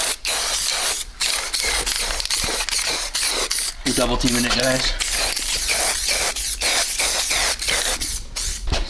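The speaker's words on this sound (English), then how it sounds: "Why am I spraying over the bushing?" An aerosol can sprays primer over polyurethane bushings in repeated sharp hissing bursts, close by, with a voice speaking briefly in the middle.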